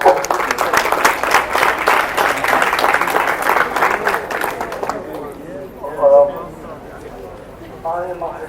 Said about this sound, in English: Please could you clap our hands.